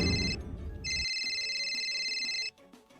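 A cellphone ringtone plays loud and close, a bright electronic tone that sounds briefly, pauses, then rings again steadily for well over a second before cutting off, with some background noise at the start.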